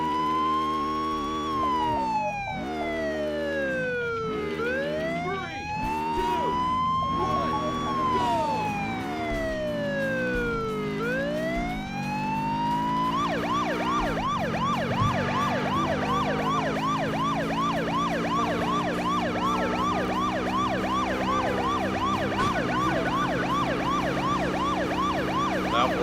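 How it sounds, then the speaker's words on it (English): Police car siren during a pursuit in a racing video game: loud wailing and yelping siren tones sweep up and down continuously, switching to a faster, busier pattern midway, with engine noise beneath. "Police car, I know, right? They're loud and proud."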